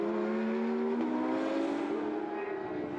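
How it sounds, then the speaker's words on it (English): Race cars passing in the rain during the 24 Hours of Zolder Belcar endurance round, a Porsche among them, engines droning with rising pitch as they sweep by, steady and fairly close. "Decision for the 15 Porsche, passing the 34 car"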